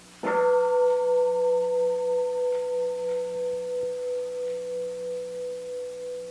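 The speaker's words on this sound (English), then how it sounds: "Let us listen to one sound of the bell." A meditation bell is struck once, ringing with a clear, pure tone that sustains and slowly pulses as it fades over several seconds, alone and close.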